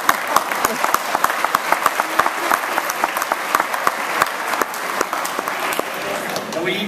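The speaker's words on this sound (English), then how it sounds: "Clap." Lively audience applause at an 8th grade graduation, a steady wash of many hands with a few sharp claps close by, sustained throughout.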